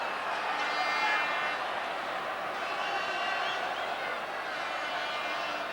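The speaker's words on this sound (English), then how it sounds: "Ups the volume of the crowd a little bit" A football stadium crowd at England v Denmark keeps up a steady, dense roar around a corner kick, with little clear rise, while a commentator talks over it.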